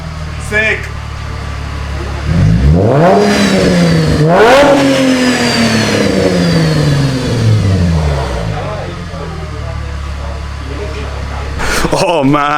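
A Mercedes SLK 350 fitted with a loud aftermarket exhaust revs hard twice, each rise and fall sweeping up and settling back to a rumbling idle, loud and close, with brief voices near the end.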